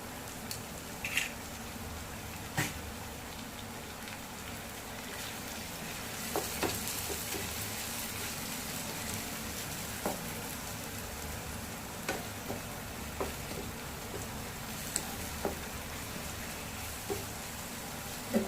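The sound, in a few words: egg sizzling in fried masala in pan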